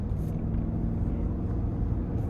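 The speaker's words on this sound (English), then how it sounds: "let's go ahead and take this 2026 Cadillac Escalade Luxury out on the road for a test drive" 2026 Cadillac Escalade Luxury with a 6.2 engine on a road test drive, a steady low interior rumble of engine and road noise, fairly loud and even, with no talking.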